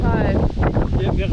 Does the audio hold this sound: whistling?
no